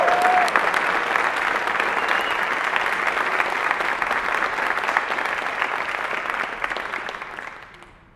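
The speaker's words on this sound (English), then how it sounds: "How about we give them a great big round of applause?" A concert audience applauds band students with a full, sustained round of clapping that stays strong for several seconds before tapering off toward the end.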